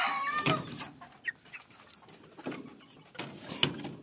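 Chickens cluck in short, scattered bursts, fairly close, with a thin steady whine running in the background.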